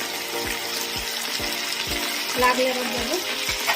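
Spice paste for fish korma fries in a pan with a steady sizzle, broken by regular scraping strokes of a stirring spoon; a voice speaks briefly over it.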